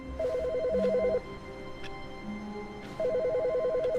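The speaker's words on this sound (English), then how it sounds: "The phone is ringing." An office telephone in The Stanley Parable game rings in two bursts of rapid warbling trills separated by a pause, loud and close over a faint steady hum.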